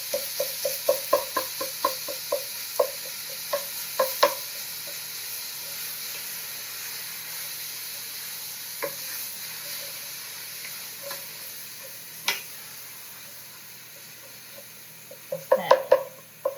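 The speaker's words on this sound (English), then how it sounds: "I'm going to go ahead and add my meat, and we're just going to want to break up the meat." Ground turkey sizzles gently in a hot pot with olive oil while a wooden spoon taps and knocks rhythmically as it breaks up the meat, the tapping bunched at the start and end.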